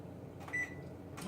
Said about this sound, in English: I'm going to put them in the microwave for a few minutes